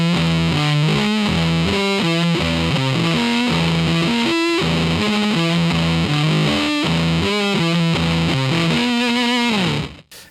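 Electric guitar driven through a Supercool Blue Meanie fuzz and octave pedal, playing a continuous riff with thick, saturated distortion and an octave effect, loud and alone before cutting off at the end.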